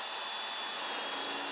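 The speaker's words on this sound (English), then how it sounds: "I'm also going to drill a couple of countersinks into what's going to be my measuring board here" A drill bores countersinks into a wooden measuring board for a table-saw miter sled, making a brief, steady whirring grind at close range with no voices.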